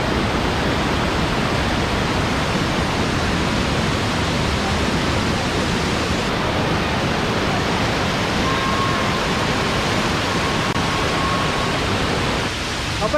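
Marmala Aruvi waterfall roars as a dense, unbroken rush of falling water, loud and close, holding steady throughout.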